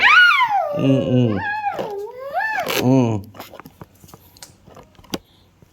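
A dog whimpers and whines in drawn-out rising and falling cries, close and fairly loud, with one sharp yelp before it fades to quieter, scattered sounds.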